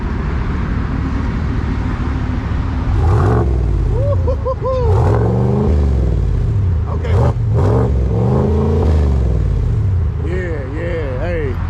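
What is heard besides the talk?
2020 Chevy TrailBoss pickup engine revving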